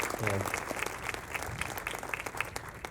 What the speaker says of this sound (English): give them a round of applause. They deserve multiple claps.